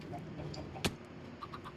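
Minecraft chickens cluck softly around an automatic egg farm with a hopper minecart under the coop. A sharp click stands out near the middle, and small clucks and game noises sit under faint background hum.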